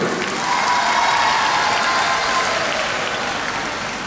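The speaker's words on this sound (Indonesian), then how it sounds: "Tepuk tangan buat kita semua dulu." A hall audience at a cooperative's annual members' meeting in East Nusa Tenggara, Indonesia, claps together in a steady, dense wash of applause that holds evenly and then slowly fades.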